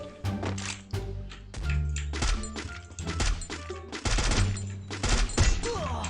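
Rapid bursts of gunfire from the video game Free Fire, firing in repeated clusters of loud, sharp shots with short pauses between volleys, heard alone without talk.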